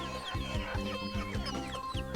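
Domestic chickens in a budget chick-rearing pen on a Thai farm, several hens clucking repeatedly in overlapping calls, steady and close, with no talk.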